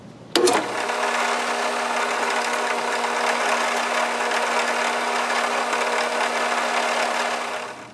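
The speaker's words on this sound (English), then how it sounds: "take a little of this buffing compound and put it on this cheapy buffing wheel and kind of shine these up a little more" A cheap buffing wheel spins up with a sharp start and then whirs in a steady, loud, unbroken drone while polishing copper pieces with buffing compound, with no voices over it.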